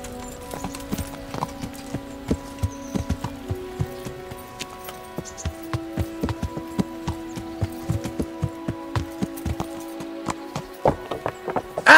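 A horse's hooves clip-clop at a steady walking rhythm in the medieval video game Kingdom Come: Deliverance, with distinct repeated taps over a quiet background.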